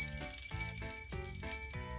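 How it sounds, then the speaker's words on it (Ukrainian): A small handheld bell rings out in repeated bursts, bright metallic jingles struck in an uneven rhythm, close and clear with no talking over it. "Чуєте дзвін?"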